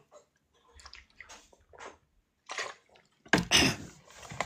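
Water poured or sipped close to the microphone, a few soft wet bursts in a quiet room ending in a louder splashy gulp or pour near the end.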